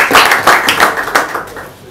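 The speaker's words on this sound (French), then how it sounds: "je vous demanderai d'applaudir les médecins chefs de zone." An audience at a product presentation of a new technology applauds, dense hand clapping close by that stays fairly loud and tapers off toward the end with no voices.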